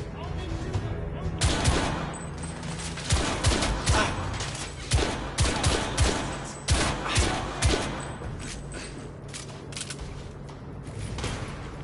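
Gunfire in the video game The Order: 1886 comes as a dense firefight with repeated sharp bursts and single shots in irregular rhythm, loud and continuous across the stretch, with mechanical clanks mixed in.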